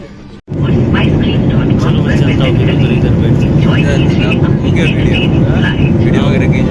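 A SpiceJet airliner's jet engines produce a loud, steady cabin roar after a brief quieter moment at the start, holding constant and close throughout with faint voices underneath.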